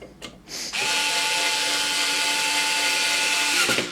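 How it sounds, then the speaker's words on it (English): A Bosch cordless screwdriver drives a screw into an amplifier. A short click and start, then a steady high whir for about three seconds before it stops, close and alone. "I'm going to use my Bosch cordless drill, well, it's actually a cordless screwdriver"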